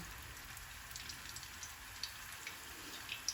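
Greek keftedes meatballs frying in a pan, a quiet, steady sizzle with small scattered pops and crackles close by, with no talking.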